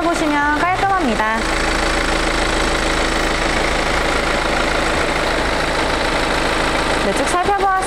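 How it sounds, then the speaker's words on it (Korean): A BMW X4 (F26) xDrive20d M Sport diesel idles under the open bonnet with a steady, even hum. Brief speech comes before it and again near the end. "엔진 소리 일정합니다."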